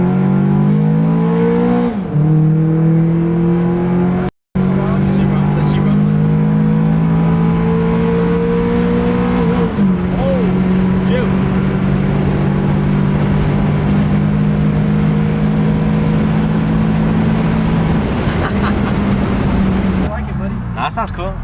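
A Ford Mustang 5.0 V8 fires up and revs, its engine note rising and holding loud and close for most of the span, with people talking over it.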